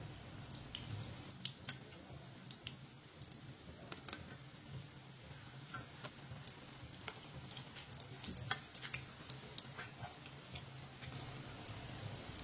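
Tikki patties cooking in a pan on a stove, a soft continuous sizzle with small crackles and pops scattered throughout, quiet and close with no talking.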